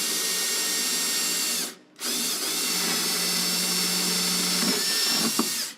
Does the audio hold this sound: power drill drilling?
yes